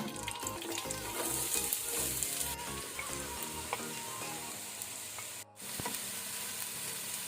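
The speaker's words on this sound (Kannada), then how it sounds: "ಈಗ ನಾವು ಈರುಳ್ಳಿಯನ್ನು ಒಳ್ಳೆ ರೀತಿ ಫ್ರೈ ಮಾಡ್ಕೊಳ್ಳೋಣ, ಮೀಡಿಯಂ ಟು ಹೈ ಫ್ಲೇಮಲ್ಲಿ" Onions and whole spices sizzle steadily in hot oil on a medium-to-high flame, a dense close crackle with occasional stirring scrapes and a brief dropout near the end, no voices.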